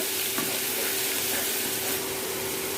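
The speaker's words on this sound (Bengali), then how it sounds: "আধা কাপ পরিমাণ পেঁয়াজ বাটা দিয়ে একটু মিশিয়ে নিচ্ছি" Onion paste being stirred into hot oil in a pan while cooking a Bengali-style arum root curry, a steady soft sizzle with scraping stir sounds throughout, close and even.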